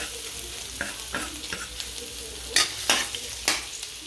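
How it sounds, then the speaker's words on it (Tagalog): Ginger sautés in a hot pan for Filipino adobong sitaw, a steady close sizzle broken by several scrapes and stirs of a utensil against the pan. "pag mainit na, gigisa natin tong luya"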